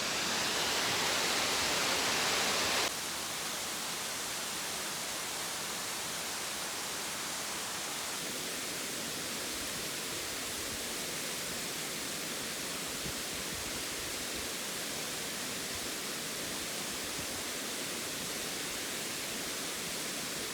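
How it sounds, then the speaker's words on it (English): Ramona Falls pours in a constant, even roar, a broad hiss of falling water that carries on unbroken with no one talking. "I made it to the falls."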